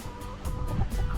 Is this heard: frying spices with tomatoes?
no